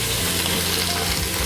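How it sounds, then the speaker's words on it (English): Shrimp shells and tails hit a hot pan with quartered onion, carrot and celery, sizzling and frying loudly and steadily with a dense crackling hiss. "Now I'm going to add all of those shrimp shells and tails straight in."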